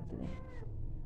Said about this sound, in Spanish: miren el gatito que me encontré